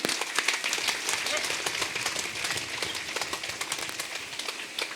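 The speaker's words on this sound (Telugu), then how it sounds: "మరి వారి టీం అందరికీ కూడా గట్టిగా చప్పట్లు కొడదాం." An audience claps at the Sri Kanva Maharshi Dhyana Mandiram meditation hall in Mandapeta. The applause is dense and continuous from many hands, fairly steady and slowly easing.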